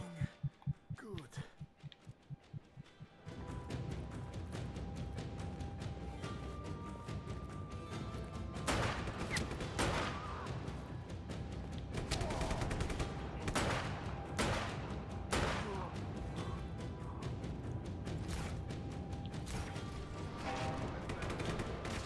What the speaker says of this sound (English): I see he's got the machine gun.